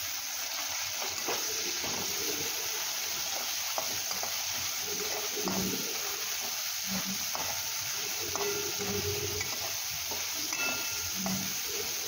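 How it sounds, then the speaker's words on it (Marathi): Tomatoes sauté with cooked potatoes in a pan for sabudana khichdi, a constant close sizzle and hiss with irregular spatula scrapes and soft knocks throughout, and no voices. "टोमॅटो ही त्याचा कच्चेपणा जाऊपर्यंत आपण परतून घेणार आहोत"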